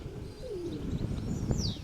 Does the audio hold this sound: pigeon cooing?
yes